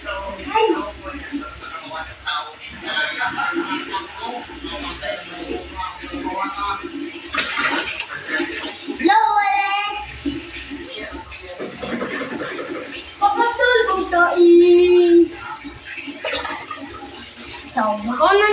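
Water swirls and churns in a homemade water tornado, splashing and gurgling in bursts under close talk and chuckling from the people nearby.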